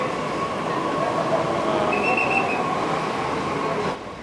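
Delhi Metro train passing close by, a loud steady rumble with a rising wheel squeal in the middle before the noise drops away at the end.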